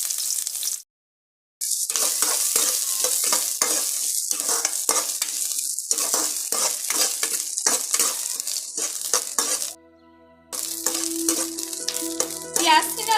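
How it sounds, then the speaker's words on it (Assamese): Chopped onions hit hot oil and sizzle loudly with crackling bursts and stirring scrapes, broken by two brief silent gaps, with a tonal clinking near the end. "তেলখিনি গৰম হোৱাত মই ইয়াত কুটি থোৱা পিঁয়াজখিনি দি দিম।"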